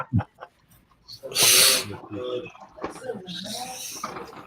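A single loud, sharp sneeze bursts out about a second and a half in during a casual livestream, surrounded by people talking before and after.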